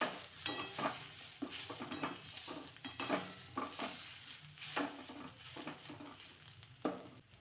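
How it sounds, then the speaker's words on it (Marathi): Vegetables being sautéed in a pan with very little oil, a soft steady sizzle under repeated stirring and scraping strokes of a spoon against the pan, fairly quiet and close. "अगदी कमीत कमी तेलाचा वापर करून भाज्या परतून घेते"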